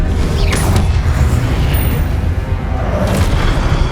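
An Incendio fire spell is cast in Hogwarts Legacy, a loud booming burst with a crackling, mechanical rush and heavy low rumble, followed by a second swelling flare near the end.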